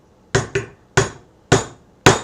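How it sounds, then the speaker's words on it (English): A metal driver is hammered to set a pop rivet in armor, five sharp close strikes, the first two in quick succession and the rest spaced evenly, each a crisp metallic knock. "And that's how you set a pop rivet."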